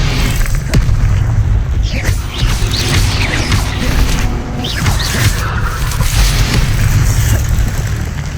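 Disarming-spell blasts in the Hogwarts Legacy video game land as repeated booming, crashing impacts amid layered magical effects, loud and close with no pauses.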